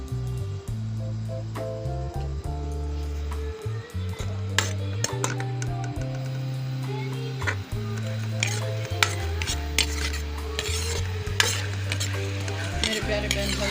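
Onions fry and sizzle in a pan in a village-style kitchen while being stirred, with a steady loud sizzle and repeated scraping and metallic clinks of the spoon against the pan, no talking.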